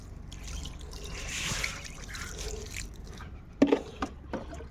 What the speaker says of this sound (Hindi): ऐसे हल्का हल्का पानी पहले मार लेना है आपको